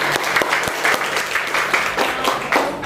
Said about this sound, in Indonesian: Beri tepuk tangan dong buat